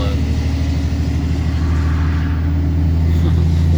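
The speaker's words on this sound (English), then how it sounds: "this truck still sounds really good under load" Ram 3500 pickup with a Cummins diesel and Aisin transmission towing a loaded gooseneck trailer, engine under load with a steady low, loud droning rumble throughout, recorded from inside the cab with the window open.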